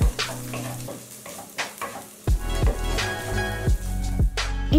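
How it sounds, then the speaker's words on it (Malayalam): Dried red chilli powder is sautéed on a low flame, with a soft crackling sizzle and repeated close spoon scrapes and taps against the pan in an uneven rhythm. "ഇനി ഇത് ലോ ഫ്ലെയിമിൽ ചെറുതായിട്ടൊന്ന് വഴറ്റി കൊടുക്കാം"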